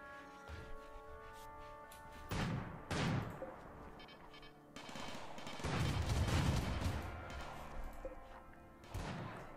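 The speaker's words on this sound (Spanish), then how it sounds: "Ahí siguen los disparos." Repeated heavy booming shots and crashes from cannons in the video game RimWorld, several loud bursts spread across the clip over a constant background hum.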